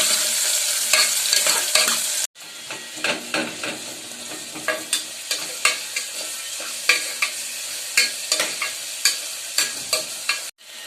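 Onions and curry leaves frying in oil while a spoon stirs them in a pan, a steady sizzle broken by regular scraping strokes, loud and close with no talking.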